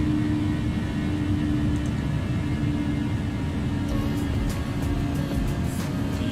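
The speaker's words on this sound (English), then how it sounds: "Aircraft powering down ever so slowly." A British Airways A319 airliner in Microsoft Flight Simulator 2020, its engines winding down with a steady, loud rumbling whir and low hum, continuous and unbroken.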